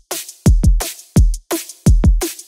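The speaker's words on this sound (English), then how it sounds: "After that, we've got the drums." Punchy electronic drums from a punk hyperpop track, with booming kicks and snappy hits in a quick, uneven pattern across a short stretch. The hits are loud, close and dry, with no voices.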